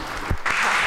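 Applause from an audience at a French conference session on social and solidarity economy, a dense steady wash of clapping that continues through the short moment with a brief dip partway.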